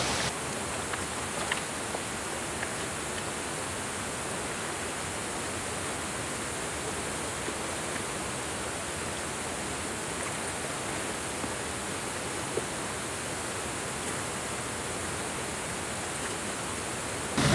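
A 15 m high waterfall rushes in a steady, dense roar that stays even and fairly close for the whole stretch, with no voices over it.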